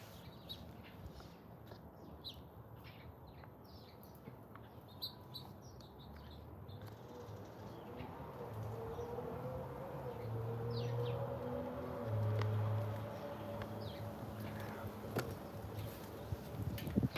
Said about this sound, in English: There's a beautiful owl just calling.